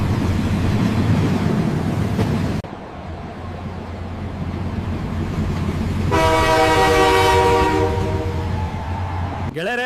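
A Mumbai-to-Bengaluru train rumbles along steadily, then a long loud horn blares over the rolling noise, with a brief voice at the end.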